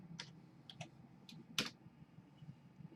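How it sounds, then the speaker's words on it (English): A command typed on a computer keyboard: a handful of soft, sharp keystrokes tapped out in an irregular rhythm close by, alone in a quiet room. "So I'll type track Z"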